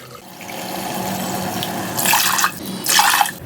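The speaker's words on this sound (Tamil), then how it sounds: "1 பங்கு அரிசிக்கு 4 பங்கு தண்ணி இப்போ சேர்த்திக்கலாம்" Water runs and splashes into a rice pot for ven pongal, a steady pour with two louder surges toward the end, close by.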